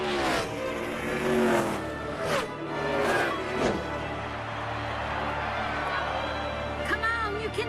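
Race cars from the Cars movie roar around the track, engines revving and whooshing past one after another over a crowd-like wash, with a loud burst early on and a voice calling out over the racing.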